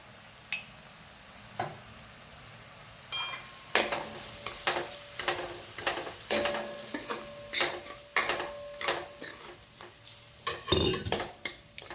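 Spice masala with chili and salt, cooked down with soft tomatoes, sizzles in oil in a pan while a spoon scrapes and stirs it in a steady series of clinking strokes, close up and with no talking.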